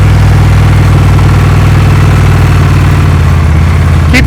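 Motorcycle engine idling and chugging at low revs during slow-speed riding skills practice, a loud, close, steady low rumble with even pulsing throughout and a short clatter at the very end, no voices.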